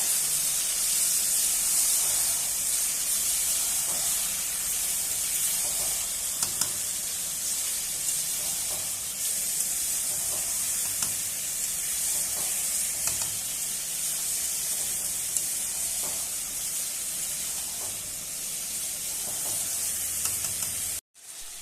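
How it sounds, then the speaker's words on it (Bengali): Chicken meat dropped into a hot pan with browned onions for egg chicken biryani, a steady loud sizzle and hiss that runs unbroken, with faint stirring clicks, cutting off abruptly at the end. "এবার আমি মাংস দিয়ে দেবো।"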